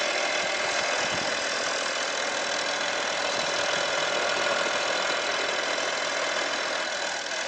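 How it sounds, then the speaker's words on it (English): Audi 2.5 TDI Allroad diesel engine idling after a turbo repair, a steady close clattering drone with no change in speed throughout. "I'm going to let it run for about 10 to 15 minutes at very slow acceleration"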